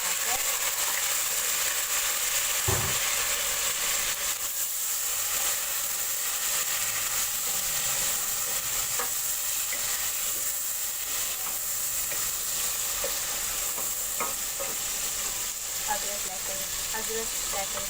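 Whole garam masala sizzles steadily in hot oil with golden fried onions, a close, continuous frying hiss with faint clinks.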